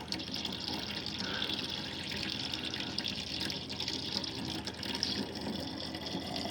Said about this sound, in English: just run a bit more water through the pipes just to make sure it's all fresh and clean water